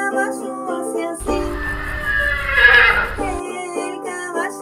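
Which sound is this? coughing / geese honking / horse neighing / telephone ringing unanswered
horse neighing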